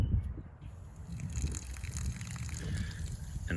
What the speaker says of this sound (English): what I like to do is just turn it on to a little trickle